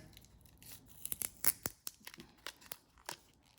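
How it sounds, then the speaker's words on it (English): Quiet snipping and crinkling as scissors cut through stiff plastic packaging of a GoPro Hero 11 Black, a series of sharp clicks and tears, close up, with no talking. "Time to use the scissors."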